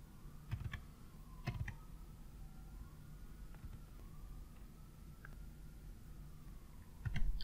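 A computer mouse clicks a few times, with two clusters of sharp, faint clicks early and one more near the end, against a quiet room hum while working in Visual Studio.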